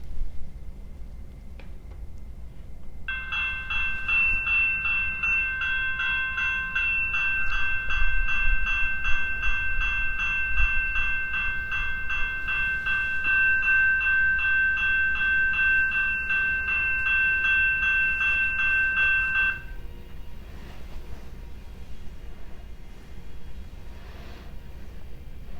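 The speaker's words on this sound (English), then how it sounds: "I have 4 sounds on the bell module. You can choose any one of the 4." An HO scale model railroad crossing bell sound module rings in fast, steady repeated strikes for about sixteen seconds, then stops, over a low continuous hum.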